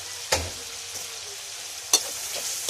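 Spices sizzling in hot oil for a fish curry with cumin, a steady soft frying hiss broken by two sharp stirring scrapes of the spoon in the pan, close and fairly quiet.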